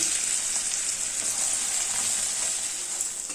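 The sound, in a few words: chopped onions sizzling as they fry in oil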